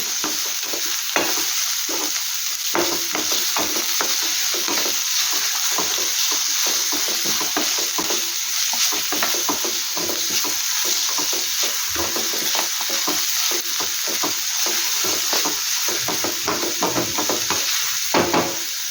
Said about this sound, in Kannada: ಶುಂಠಿ ಇದೆ ನೋಡಿ, ಫ್ರೈ ಮಾಡ್ಕೊಳ್ಳುವ.